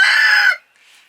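A rooster gives a short, loud crow or squawk lasting about half a second, followed by a faint, brief trailing call.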